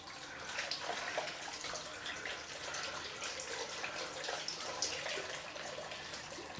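A straight razor is rinsed under running sink water between shaving passes, giving a steady, faint rushing splash with small splatters throughout.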